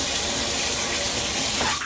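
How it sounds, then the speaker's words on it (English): Warm shower running, a continuous broadband hiss of spraying water that holds steady and close for the whole short stretch, alone without talk. "I'm just in a warm shower."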